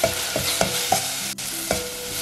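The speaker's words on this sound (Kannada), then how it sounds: "ಇದೊಂದ್ಸಲ ಮಿಕ್ಸ್ ಮಾಡ್ಕೋಬೇಕು." A spoon scrapes repeatedly through a fenugreek leaf mixture in a hot pan, with a steady sizzle underneath and about five distinct stirring strokes close by; no talking.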